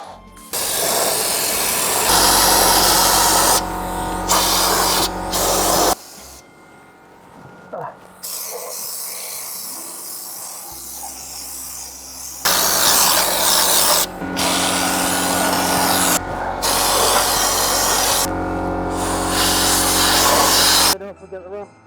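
Underbody sealant hisses from a spray gun beneath a BMW M4 in long, loud sustained blasts broken by brief pauses and a quieter middle stretch, with a steady hum underneath.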